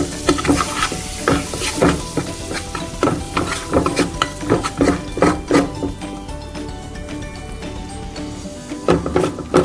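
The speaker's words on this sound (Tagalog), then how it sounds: "lagyan po natin ng soup flour. I-mix lang po natin." A spoon stirs flour into a pan for homemade bechamel sauce, giving steady rhythmic scraping strokes with a soft sizzle underneath, close and fairly loud throughout.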